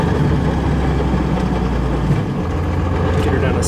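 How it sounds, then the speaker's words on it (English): 12V Cummins diesel truck engine with a new big turbo, a loud close low-pitched idle rumble that shifts lower partway through, with people talking over it. "the truck just sounds like it idles different"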